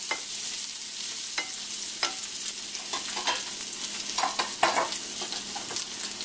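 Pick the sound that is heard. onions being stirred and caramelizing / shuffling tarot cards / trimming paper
onions being stirred and caramelizing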